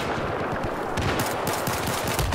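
M60 machine gun firing in Battlefield 4, a dense rapid burst of close, loud automatic shots running steadily throughout with no pause.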